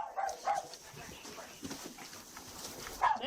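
A dog barks in short bursts from somewhere inside a house during a police search warrant entry, sounding moderately near, with people talking over and between the barks.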